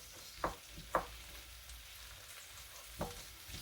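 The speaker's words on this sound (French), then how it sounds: "Donc je fais revenir mes oignons" Onions sautéing gently in a pan give a low, steady sizzle, broken by a few sharp scrapes or taps of a utensil against the pan, close by and without talk.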